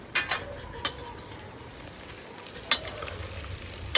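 Onions frying in a pan for masala rice, a soft steady sizzle broken by a few sharp clicks of a spoon against the pan, close by with no talking.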